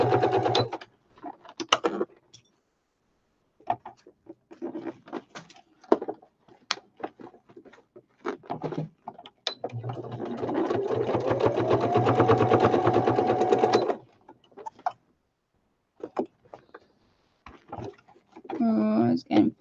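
Sewing machine stitching through four layers of fabric, one sustained run of steady stitching in the middle, surrounded by a voice talking and small handling noises.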